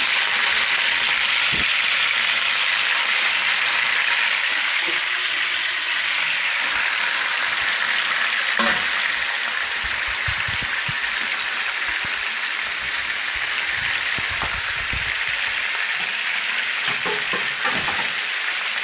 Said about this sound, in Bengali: বেশি দিন থাকার কারণে প্রথমে মাংসগুলো ভেজে নিতে হবে।